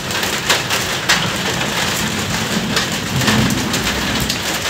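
Heavy rain falls during a thunderstorm, heard from a rooftop stairway. It is a loud, dense, continuous wash of drops striking surfaces, with occasional stronger spatters.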